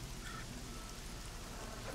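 Steady rain falling, a soft continuous hiss of drops spread evenly and heard faintly at a distance, without any voices.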